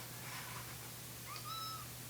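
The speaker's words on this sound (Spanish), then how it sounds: "tengo un gato por acá que está maullando" A cat meows nearby indoors, two short high-pitched mews rising over a quiet background hum, faint and brief.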